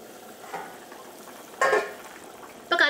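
A spoon stirs a simmering spicy potato curry in a pot, with a faint scrape and then two louder bursts of stirring and clinking against the pot over a quiet bubbling background.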